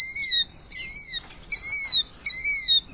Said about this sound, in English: It's a pretty distinctive sounding call there from our mystery bird.